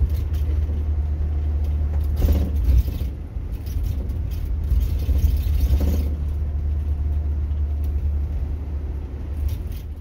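Steady low road rumble inside a moving car leaving a resort near Changchun in winter, a continuous drone with slight swells and no talking.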